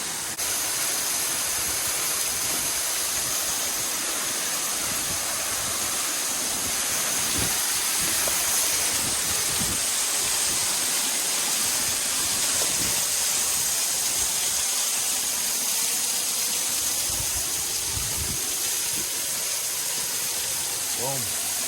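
A waterfall roars from behind the falling water on wet rocks, a dense, continuous rushing hiss that fills the space at close range with no let-up.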